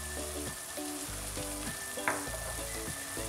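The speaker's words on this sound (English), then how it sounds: "And then just give that a gentle stir." Chicken karahi sizzles steadily as it fries in a pan and is gently stirred, with a brief louder scrape midway, all under continuous background music.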